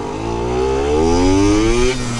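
A Yamaha YSR50 mini street bike's small engine revs upward, its pitch climbing steadily then easing off near the end, loud and close with no talk.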